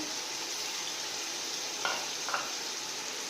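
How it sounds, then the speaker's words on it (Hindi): Yogurt and salt stirred into a pot of potato pulao, with a soft continuous sizzle and two brief scraping strokes of the spoon partway through. "इन सबको मिक्स करेंगे"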